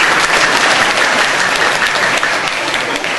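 Sustained applause from an audience at an Islamic book discussion event, dense steady clapping filling the whole stretch without pause, loud and close.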